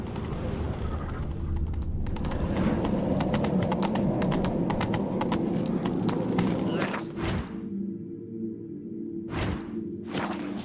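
Hooves of Geralt's horse Roach galloping in The Witcher 3, a loud, fast rhythmic clip-clop that slows and breaks off near the end, with a voice speaking over it.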